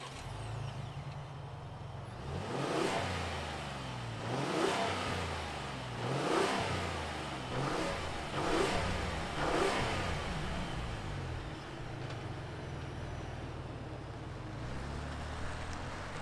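A 2022 Ford Expedition Timberline with an EcoBoost engine revs repeatedly at close range, several rising and falling pulls over a steady idle rumble, with no talking.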